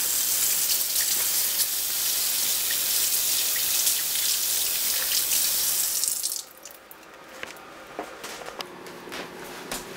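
Water runs steadily from a kitchen tap as hands are washed, a loud continuous hiss and splash that cuts off partway through, leaving quieter drips and small handling noises.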